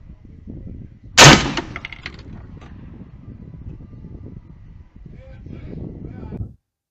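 A single sharp rifle shot rings out loud and close, its report and echo decaying over about a second, set against a low steady background rumble while zeroing at a target.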